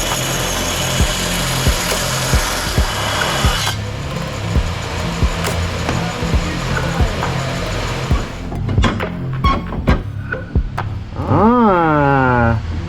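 A power tool bevels the corner of a metal plate while fabricating a handbrake mount for a C8 Corvette drift car, a loud steady grinding whir with rhythmic pulses, then winding down into scattered metallic clinks and a rising-falling whine.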